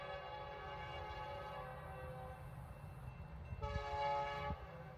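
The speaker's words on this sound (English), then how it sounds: "The train can be quite long." A BNSF freight train near Brookline on the Springfield Division, heard as a steady low rumble with tonal horn-like harmonics, swelling briefly louder toward the end.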